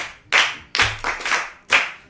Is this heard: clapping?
yes